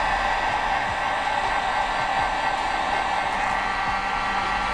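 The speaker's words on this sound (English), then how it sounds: "Now we can take our heat gun and then just shrink the outside of those crimps." A heat gun blows a steady, loud, even hiss of hot air while shrinking wire crimps during a Tacoma blower motor resistor repair.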